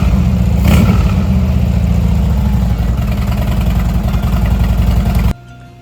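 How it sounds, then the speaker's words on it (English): A Harley-Davidson motorcycle engine idles just after a throttle grip install, a loud, close, steady rumbling with regular low pulses and a brief rev near the start before it cuts off. "I started up, I just wanted to make sure this throttle is working."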